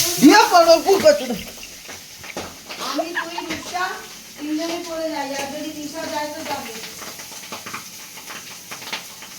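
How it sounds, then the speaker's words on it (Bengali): Pabda fish fry in hot oil with a sustained sizzle and hiss while someone stirs, a person talking loudly over the cooking throughout. "লাইভ রিস্ক নিয়ে পাবদা মাছ ভাজতে হয়"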